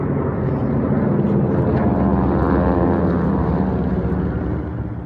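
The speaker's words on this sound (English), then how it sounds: "Those World War II-era planes, part of a ceremony to remember 1 year of a devastating pandemic." World War II-era planes fly over a pandemic memorial ceremony in Colorado, their loud, rumbling engines droning close overhead and easing off slightly at the end.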